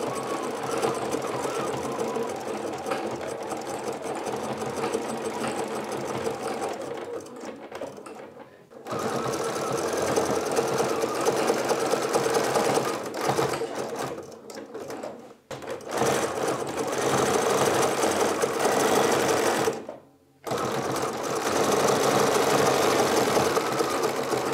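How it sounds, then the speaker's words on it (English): A sewing machine runs a zigzag stitch crosswise over the center of a coiled rope bowl, humming steadily and loudly in long runs broken by three brief stops, with no talk. "I now sew with my zigzag stitch crosswise over this midpoint to make everything stable and stiff."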